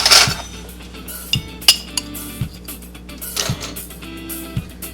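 Metal knives clink and clatter as they are picked up in a kitchen, a few sharp close taps and rattles spaced irregularly, with a low rhythmic mechanical thump in the background.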